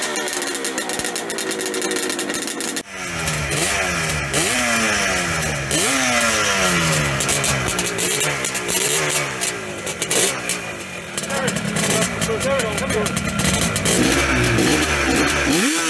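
A Kawasaki H1 Mach III motorcycle engine, a classic two-stroke triple, revs repeatedly at close range at a vintage motorcycle club founders day rally, climbing and falling in sweeping bursts over a loud, raspy idle.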